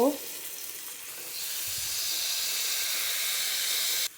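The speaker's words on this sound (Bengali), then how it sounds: "পেঁয়াজটা ভাজা ভাজা হয়ে গেছে, এখন দিব রসুন বাটা, অল্প পানি দিব," Onion already browned in a frying pan, then garlic paste and a splash of water go in, giving a loud, steady sizzling hiss that swells after a moment and stops abruptly near the end.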